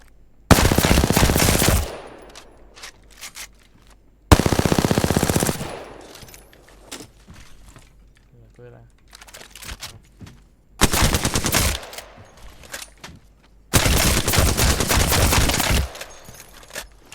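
Automatic weapon fire in the video game Apex Legends rips out in four long, loud sustained bursts, separated by quieter gaps with faint game sounds.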